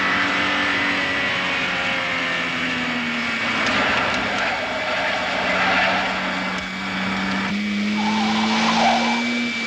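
Car chase from a film set across Italy, with tires skidding and squealing over roaring engine noise, sustained and fairly loud throughout with rising and falling pitch sweeps.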